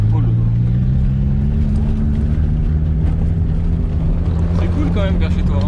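A Peugeot 106 driving along, its engine a steady loud drone inside the cabin with a gently shifting pitch, while occupants chat over it.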